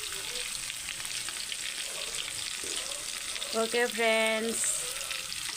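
Pilot fish frying in a pan, a steady broadband sizzle throughout with a voice speaking briefly near the end.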